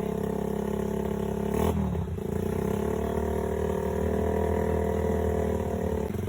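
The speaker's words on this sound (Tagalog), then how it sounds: "Tapos dito, pinaandar na ni Tito Jeff yung motor natin." A Bajaj motorcycle engine runs at a steady idle, with a brief blip of revving early on before settling back to an even, continuous drone up close.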